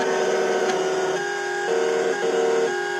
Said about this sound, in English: And now it's going to go through and start doing the external outlay cutting.